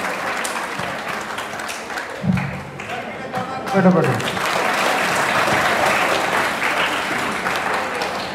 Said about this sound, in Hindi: तालियां बजाओ एक बार सर के लिए